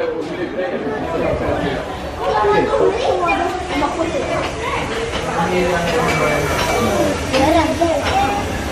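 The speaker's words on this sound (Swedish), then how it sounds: "Nu kommer tåget!" A train rolls in with steady rumbling and squealing rail noise while a crowd chatters throughout.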